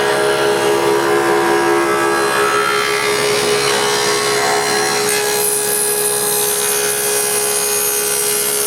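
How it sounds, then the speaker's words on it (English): Lock rabbets are cut into the wooden stiles of a night stand, a loud, unbroken grinding cut through wood close by that holds steady throughout with no voices. "I cut a series of lock rabbets on the stiles."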